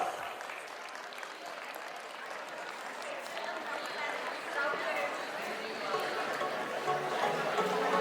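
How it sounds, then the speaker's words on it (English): A large audience cheers and applauds for Karan, a student receiving a laptop at a school felicitation ceremony. The noisy, sustained crowd sound holds steady for the whole stretch and swells slightly toward the end, with voices mixed in. "Come on everyone, let's give Karan a warm cheer."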